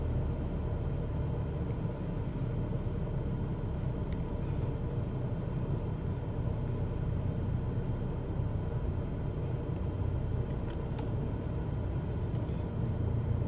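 A Cessna 172 engine at idle throttle during landing gives a steady, low, continuous drone with wind-like rumble, unchanged from start to end.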